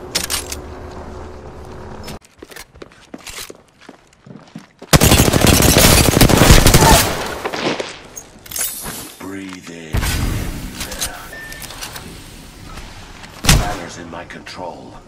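Gunfire in an Apex Legends firefight, with loud bursts of automatic fire around five to seven seconds and again near ten seconds, plus a sharp single shot late on, between quieter stretches of game ambience.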